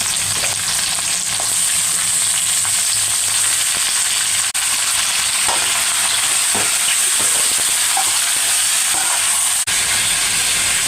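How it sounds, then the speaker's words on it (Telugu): Chicken with green chillies frying in a pan, a steady loud sizzle and hiss throughout with occasional stirring clicks, no talking. "ఇలా ఫ్రై చేసుకున్నాను చికెన్ని ఒక 10 మినిట్స్ పాటు"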